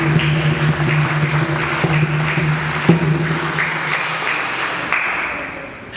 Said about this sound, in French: Applaudissez pour la chorale